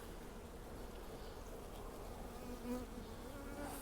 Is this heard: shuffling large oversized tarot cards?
no